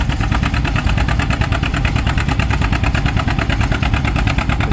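An antique pulling tractor's engine idles down at a tractor pull in Mt. Carroll, Illinois, holding a loud, steady, rapid chugging throb throughout, close and alone with no talk.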